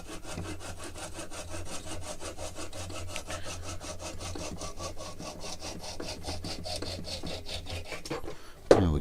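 A Japanese pull saw cuts through the wood of a Halloween ornament in steady, even rasping strokes, close and continuous for several seconds, ending with a brief clatter.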